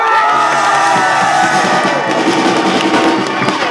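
Outdoor protest rally crowd outside a detention site, loud and continuous cheering, whooping and shouting from many voices filling the whole stretch without a break.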